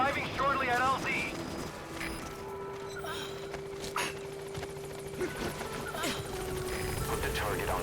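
Helicopter from the video game Metal Gear Solid V approaching a landing zone, a steady rotor drone held under game effects and radio voice lines throughout.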